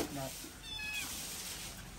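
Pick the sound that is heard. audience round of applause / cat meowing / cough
cat meowing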